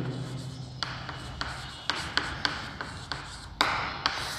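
Chalk or marker taps and scratches on a board during a chemistry lecture, a series of crisp irregular clicks and strokes up close with no talking.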